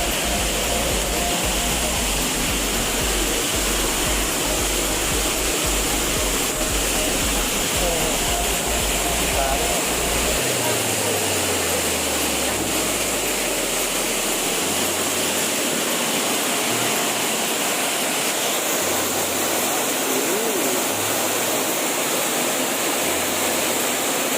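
Saeng Chan waterfall pours through two holes in the rock as a loud, constant, broadband roar of rushing water, close and continuous throughout.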